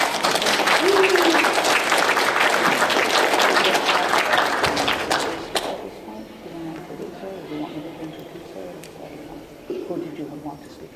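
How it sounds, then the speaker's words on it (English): An audience at a lobby day gathering claps loudly for several seconds; the applause then drops away and quiet talk continues in the room. "You can give them an applause if you want to."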